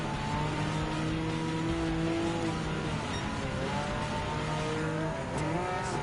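A Type 992 Porsche 911 GT3 RS and rival cars racing in Gran Turismo 7, steady loud engine drone with shifting tones as revs rise and fall, continuous and close with no voices.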